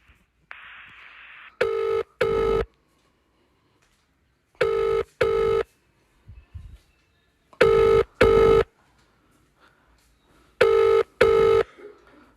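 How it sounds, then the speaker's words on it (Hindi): A telephone rings out in four double bursts spaced about three seconds apart while a call is placed, the rings loud and close, with a brief tone at the start and quiet gaps between. "फिर से फ़ोन करता हूँ तुमको मैं।"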